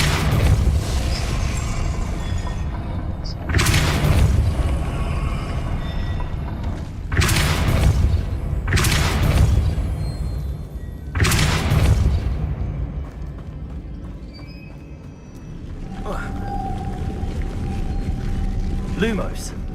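Depulso spell blasts in Hogwarts Legacy, several loud booming bursts spaced a few seconds apart over a low ambient rumble, with a player talking between them.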